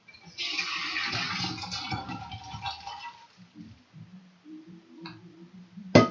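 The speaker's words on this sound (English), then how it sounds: "Alright, drain your potatoes." Water from a pot of soft boiled potatoes poured through a strainer, a rushing splashing pour that tapers into quiet dripping, with a faint clink at the end.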